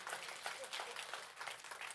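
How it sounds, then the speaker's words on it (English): A faint, distant round of applause from an audience, a soft, steady patter of many hands that stays low in level, with a voice briefly audible under it. "you can clap for my mom"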